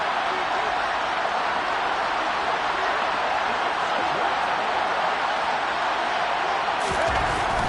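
Roaring football stadium crowd during a Falcons–Raiders game, a dense, loud, continuous wall of cheering and noise that holds steady throughout.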